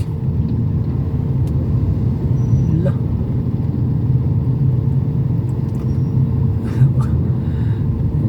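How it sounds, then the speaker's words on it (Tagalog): Heavy, congested road traffic with cars and tricycles makes a constant low engine rumble and idling drone, steady throughout with faint horn-like touches, while someone talks briefly over it. "daig pa yung palengke sobrang traffic eh"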